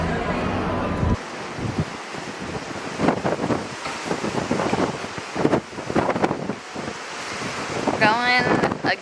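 Wind roars steadily across the deck of the Norwegian Epic cruise ship as it sails against the current, with waves rushing beneath and gusts buffeting the microphone throughout; a brief high chirping sound rises near the end.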